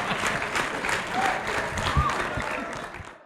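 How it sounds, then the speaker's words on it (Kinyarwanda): Audience applause at a live show with Riderman, dense clapping from a crowd filling the room, steady for a few seconds before tapering slightly at the end. "muwongera amashyi"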